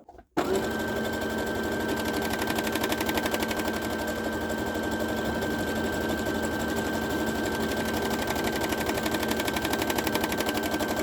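A sewing machine stitches a buttonhole with a buttonhole foot, running in a loud, rapid, unbroken mechanical rattle for about ten seconds after a brief quiet start.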